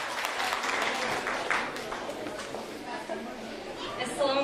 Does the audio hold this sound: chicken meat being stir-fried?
no